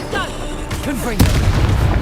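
A Confringo blasting spell fires and explodes in Hogwarts Legacy, a sharp booming blast landing near the end of a short burst of spell effects and magical whooshes, with a brief voice call mixed in.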